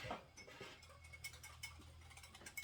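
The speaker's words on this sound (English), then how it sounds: "I'm just putting that into a measuring cup and I'm just going to whisk it" Stir fry sauce being whisked in a measuring cup: faint, quick, rhythmic clinking and ticking of the whisk against the cup, heard alone in a quiet room.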